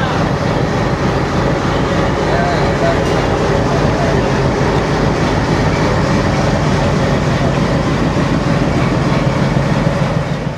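A passenger train running from Howrah towards Sairang, its steady rolling rumble and clatter of wheels on rails filling the carriage continuously at close range, with faint background voices.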